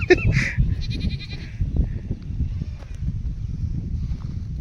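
A goat bleats in a few loud, quavering calls early on, then fades into low rumbling outdoor background noise at a family picnic.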